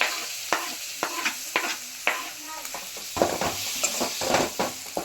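Tomato and spices stir-fry in a hot pan for a mutton fry, a loud sizzle under repeated sharp scrapes of a spatula against the metal in a quick, uneven rhythm.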